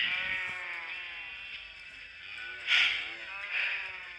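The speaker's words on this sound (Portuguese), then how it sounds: "Sai daí, ovelha." Sheep on a farm bleat nearby, with a steady wavering bleat and two louder calls rising near the end, fairly faint overall.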